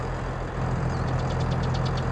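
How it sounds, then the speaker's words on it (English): A Landini 7230 Robo 6 tractor engine in Farming Simulator 22 runs at a steady idle, a loud low rumble with a faint rhythmic ticking pulse riding over it. "And start him up. Nice engine sounds."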